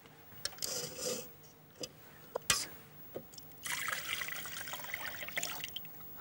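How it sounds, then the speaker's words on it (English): Milk being poured from glasses into a jug, heard as intermittent soft splashes and a longer trickling pour near the end, with scattered small clinks and rubbing handling noises. "so I'll pour the milk in there."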